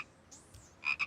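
A cartoon frog croaks twice in quick succession near the end after a brief rising chirp, clear and close with no talking.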